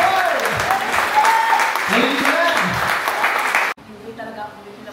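Audience applause at a church district youth gathering, a dense burst of clapping mixed with voices that cuts off abruptly near the end, leaving faint murmuring.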